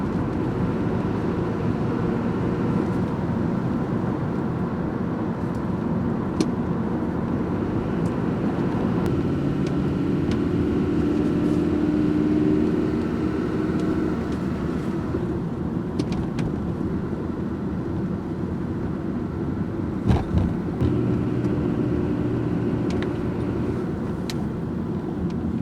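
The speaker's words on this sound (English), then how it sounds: "Let's start with a test drive." A car on a test drive for a steering wheel shake, heard from inside as a steady, loud road and engine rumble with tire noise throughout and a brief bump near the end.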